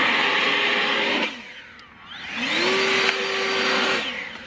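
An electric backpack leaf blower runs with a loud steady whine that dips and fades around the middle before spinning back up to full speed, then tapers near the end.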